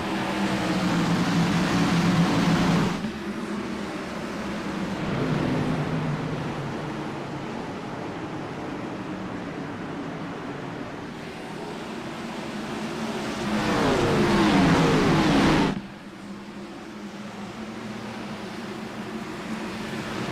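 Engines of 600-plus horsepower Class B stock cars racing at Watkins Glen in the iRacing simulator, a steady droning roar that swells and fades as cars pass, then drops abruptly to a thinner hum near the end.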